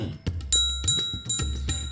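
A bright notification bell chime rings in a short repeated pattern, clear and close, with no talk over it.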